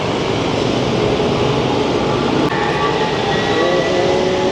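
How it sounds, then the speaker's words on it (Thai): Steady, loud rumble of a train rolling past close by in Thailand, continuous throughout with a brief high squeal midway. "รถไฟนะครับ มาไม่ขาดสาย มาเรื่อยๆ"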